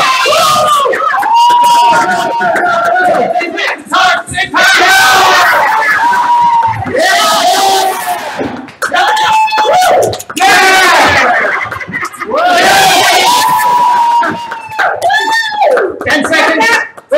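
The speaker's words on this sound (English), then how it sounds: "Cheer on, everyone." A game show studio audience cheers and shouts loudly in repeated swelling bursts, with excited screams and voices over a fast timed round, mixed with a host talking.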